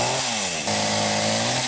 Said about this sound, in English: this primal need for men to use a chainsaw